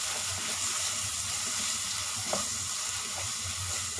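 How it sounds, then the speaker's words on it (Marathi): Masala with chilli powder, turmeric and salt fries in oil for a dried Bombay duck gravy, giving a steady, close sizzle with faint stirring scrapes and no talk. "आता याला चांगलं थोडं परतून घेते।"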